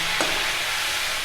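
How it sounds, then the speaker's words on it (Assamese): Meat and onions fry on a gas stove turned up high, giving a steady, close sizzling hiss with a soft stirring scrape near the start. "এনেকৈ মই গেছটো বঢ়াই ভাজি আছোঁ যাতে পিঁয়াজখিনি ইয়াৰ একেবাৰে গলি নাযায়"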